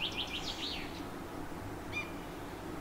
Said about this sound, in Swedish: En bofink.